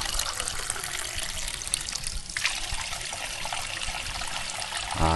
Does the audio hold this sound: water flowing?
yes